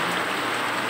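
Heavy rain pours steadily during a rainy-season home cooking session, a dense, continuous hiss of drops striking surfaces, close and fairly loud, with no voices in this short stretch.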